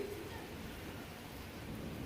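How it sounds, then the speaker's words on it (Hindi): Steady rain patters continuously at a soft, even level during a storm at home, with no voices over it. "बारिश आ रही है"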